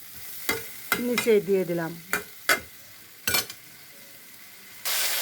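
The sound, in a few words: fish frying in hot oil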